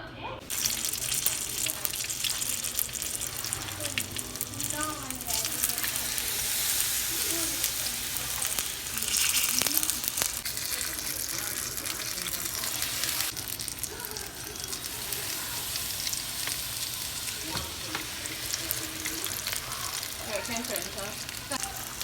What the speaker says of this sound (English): And once it's hot, then I will start frying my fritters.